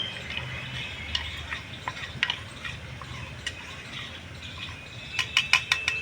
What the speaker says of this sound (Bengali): একটু জল দিয়ে আমি এটাকে একটু হালকা করে একটু নেড়ে নেব